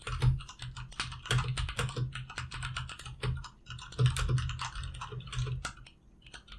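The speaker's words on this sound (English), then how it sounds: "I have a mechanical keyboard, by the way. Can you tell?" Rapid, continuous typing on a mechanical keyboard, dense clacky keystrokes with a few louder bursts, close and clear with no talking over it.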